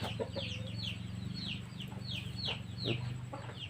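Chickens cluck near at hand as they eat small pieces of a home herbal remedy given to a fighting rooster after sparring, short calls repeating steadily over a constant low background hum.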